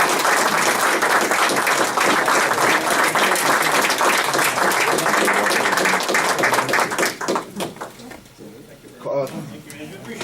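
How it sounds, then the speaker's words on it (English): An audience applauds after a fire district candidate forum in Franklin Square, steady dense clapping for about seven seconds before it thins out and fades into scattered claps and room noise. "let's give them a round of applause"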